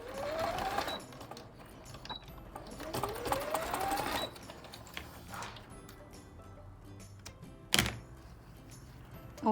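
Domestic sewing machine stitching fabric for a soft Easter bunny toy, two short bursts of rising motor whir close by, followed by quieter handling and a sharp clack near the end.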